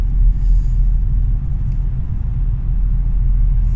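Steady low engine rumble from an Audi A6 cruising in fourth gear at 2000–3000 rpm, with constant road and drivetrain drone, loud and close from inside the car, no voices.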